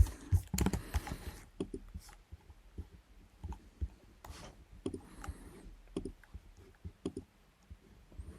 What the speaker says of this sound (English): I'm just rather clicking around a lot, just trying to figure things out, how they all work